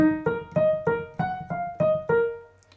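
Short, detached piano notes from a song played one after another, about eight crisp staccato strikes in a steady rhythm, each cut off quickly.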